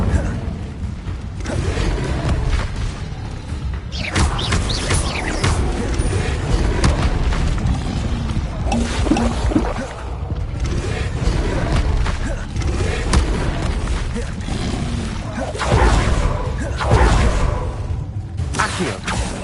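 Spell effects from Hogwarts Legacy combat on the hardest difficulty: a dense, continuous barrage of booming blasts, whooshes and crackling impacts, loud and layered with no pause, mixed with battle noise throughout.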